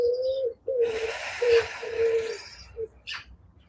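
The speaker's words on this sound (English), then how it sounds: "Maybe the birds will join you." Birds coo and call outdoors, a steady rhythmic cooing like a pigeon or dove repeating several times near the microphone, with brief higher chirps toward the end and no talking.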